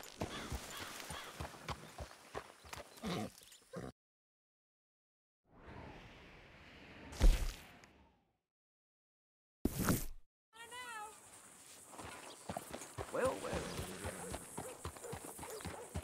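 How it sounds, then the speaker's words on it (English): Horse hooves clip-clopping at a stable in Red Dead Redemption 2, rhythmic hoofbeats in short bursts separated by silent gaps, with a brief whinny and some faint ambient game sounds. "Hey, good-looking horse there."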